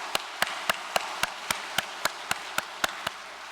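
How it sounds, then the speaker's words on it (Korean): An audience at a Korean religious assembly claps in steady unison, with about a dozen evenly spaced sharp claps at a brisk rhythm, moderately loud over a soft room hush and no talking. "참 어머님께 큰 감사의 박수를 올려주시기 바랍니다"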